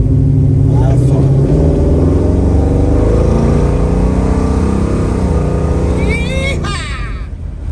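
A 1978 Chevrolet Nova with Posi traction accelerating hard through its gears, a loud, dense engine roar climbing and holding near before easing off at the end, with a voice whooping over it.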